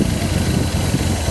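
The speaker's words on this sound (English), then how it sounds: "Oh, I don't think it's gonna idle." A 1979 Datsun 280ZX engine with new injectors, running rich and struggling to idle, gives a steady, close mid-pitched rumble for just over a second with no voices.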